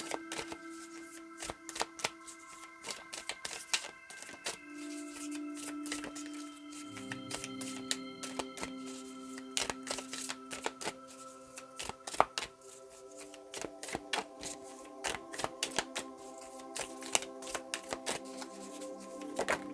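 Tarot cards are shuffled over and over in quick, papery riffles and taps, fairly close and soft, with a gentle melodic music bed underneath.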